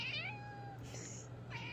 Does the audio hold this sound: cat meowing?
yes